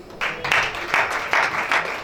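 Bursts of crowd applause at a French-language church gathering, coming in several rhythmic waves of clapping over about two seconds, fairly loud and close.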